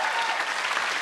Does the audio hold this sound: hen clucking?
no